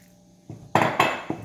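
Bread dough for crunchy French bread being mixed in a bowl, heard as a few separate clinks and knocks of a utensil against the bowl, each short and fairly close.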